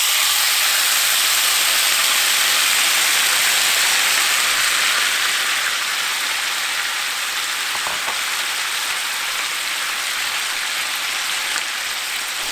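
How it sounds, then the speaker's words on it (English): Pork sizzling in hot oil in a pan while cooking until crispy for Korean tacos, a steady dense loud hiss and crackle throughout with no talk. "We're gonna add our pork and we're gonna cook until we achieve our desired crispiness."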